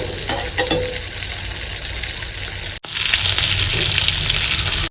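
Salted water in a cooking pot for Karaikal-style packed rice, stirred with a loud, steady bubbling hiss close by, broken by two brief cuts, with no talking.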